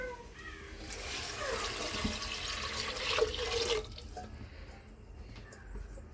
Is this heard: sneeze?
no